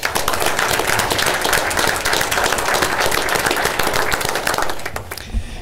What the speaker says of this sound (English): So please join me for a round of applause.